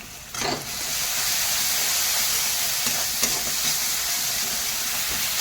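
Spice masala with tomato and onion frying in oil, a steady close sizzle and hiss that holds evenly throughout, with a few faint stirring scrapes.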